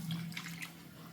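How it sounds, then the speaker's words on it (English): Water runs steadily into a soup pot during cooking of Igbo egusi and achi soup, a soft continuous pour heard up close with no talking. "I'm going to add water."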